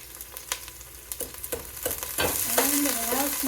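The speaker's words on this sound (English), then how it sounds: "And we're gonna get this sauteing. I need a metal spoon." Garlic sautéing in a pan and stirred with a metal spoon, giving sharp scraping clinks at an irregular pace that give way to a steady, louder sizzle near the end.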